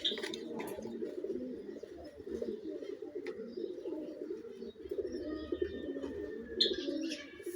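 Pigeons coo in low, rolling murmurs that run steadily throughout, fairly close by, with a few sharper chirps and brief rustles breaking in; no talking is heard.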